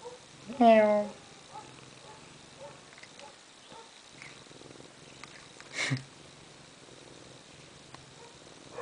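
A cat lets out a loud, clear meow near the start, followed by a low, steady purr under quieter sounds, with a brief sharper noise later. A person speaks softly at times.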